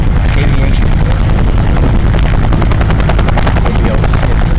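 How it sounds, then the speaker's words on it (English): An Army Huey H-1 helicopter at a flight show, rotor running loud and close in a steady pulsing chop over a heavy, continuous engine roar, with no clear talk. "And here we have the Huey H-1 chopper."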